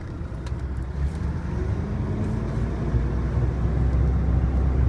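A Volvo truck with a 12-speed split manual gearbox pulls away in its lowest gear, a deep, steady diesel engine rumble heard from the cab that builds slightly as it moves off, with no talking.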